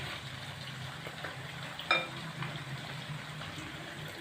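Potato karahi cooking over a slow flame gives off a soft, steady sizzle and light bubbling, with an occasional faint stir or clink, quiet and continuous throughout.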